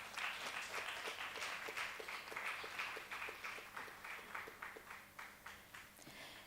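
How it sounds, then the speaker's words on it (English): An audience at an Indian classical dance festival applauds with a steady patter of many clapping hands that fades slowly toward the end, faint and heard from a distance. "Please welcome her with a round of applause."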